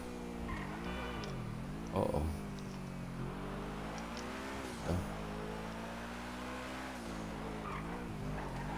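A Bugatti in the GTA 5 video game, its engine droning in wavering harmonic tones while it drives, with two brief skid bursts partway through; a person talks briefly over the game sound.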